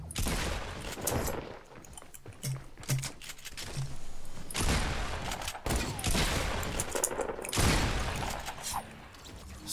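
Gunfire from an AK and pump shotgun in Fortnite, several sharp bursts and single blasts spread across the stretch with game sound effects in between, fairly faint overall.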